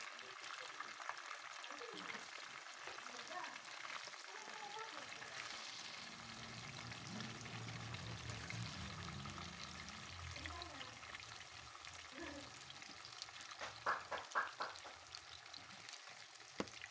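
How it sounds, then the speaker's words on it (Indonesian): Chicken pieces frying in hot oil until dry, for a teriyaki-spiced stir-fried chicken dish, giving a steady soft sizzle that runs throughout with a few brief louder crackles near the end. "Goreng sampai kering ya."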